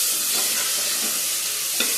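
Onions and tomatoes frying in a pan while being stirred, a steady dense sizzle throughout with a few soft scraping strokes.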